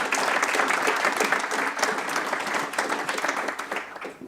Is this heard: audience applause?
yes